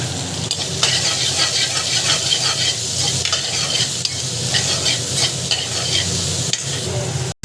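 Loud, steady sizzling of onions sautéing in a pan with dried red chillies, cumin and curry leaves, broken by stirring scrapes throughout, close to the microphone and with no talking.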